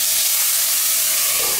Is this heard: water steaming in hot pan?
yes